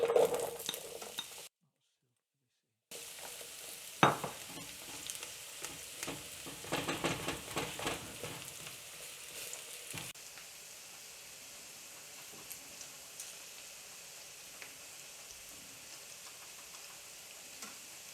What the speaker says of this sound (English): so now there's a pan with the oil and in go the onions